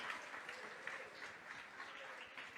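Congregation applauding during a church service, a soft, steady patter of many hands, distant and even throughout, with no talk over it.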